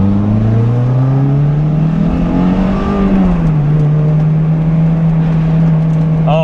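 A 2000 Toyota MR2 Spyder's engine drones steadily up close while the car drives and turns, its pitch climbing then sagging as the throttle lifts mid-corner.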